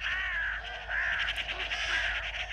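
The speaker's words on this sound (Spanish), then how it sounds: "Vienen cornejas, urracas y cuervos desde todas las direcciones del espacio." Carrion crows, magpies and ravens call around a goshawk, repeated harsh caws arriving in a steady rhythm, fairly loud and close, with no talk.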